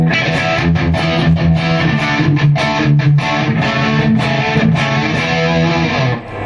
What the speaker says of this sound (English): Gets you that classic scoop metal sound